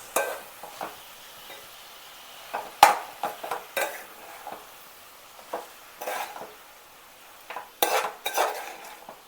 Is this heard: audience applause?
no